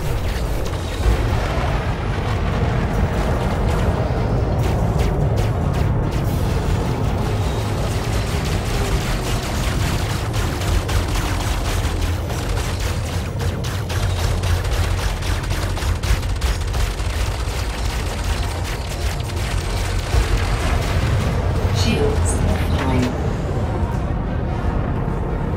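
Spaceship guns in Elite Dangerous space combat, beta 2.04: a dense, loud wall of booming blasts and rumbling engine noise that runs without a break, with sharp crackling bursts of fire layered on top.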